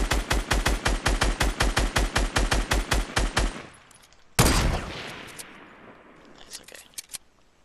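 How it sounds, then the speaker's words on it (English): A fast, evenly spaced burst of about twenty loud shots from a Fortnite gunfight rattles for several seconds, then stops; a sharp blast follows, then a few faint scattered pops. "He's getting in a gunfight."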